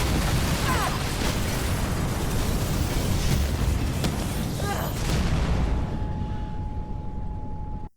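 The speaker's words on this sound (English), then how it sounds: "Big explosion! explosion over here!" A loud, sustained explosion roar from the video game Mirror's Edge Catalyst fills the whole stretch, dense rumbling debris noise that fades toward the end with a steady tone lingering.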